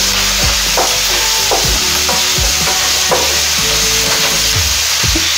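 Onion, ginger, green chili and garlic sautéing in a pan with sausage, a loud continuous sizzle broken by regular scraping stirs from a spoon, close up with no talk.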